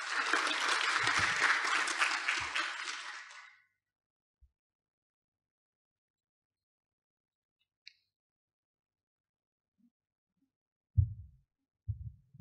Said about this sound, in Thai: ปรบมือด้วยครับ